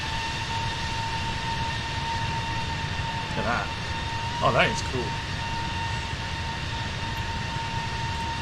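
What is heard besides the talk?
Pratt & Whitney engines of A321neo in video game Microsoft Flight Simulator 2020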